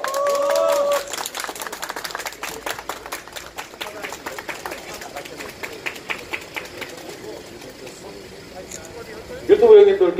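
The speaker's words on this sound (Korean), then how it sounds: "뜨거운 박수 부탁드립니다." A small crowd at an outdoor press conference in front of the Chinese embassy claps in quick, scattered bursts while people talk over it, followed by a louder voice near the end.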